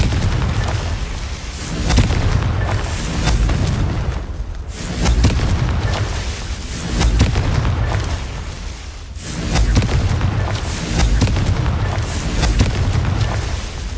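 Repeated booming blasts from the Confringo fire spell in Hogwarts Legacy, heavy explosions recurring about every two to three seconds, loud and close with rumbling tails and no talk.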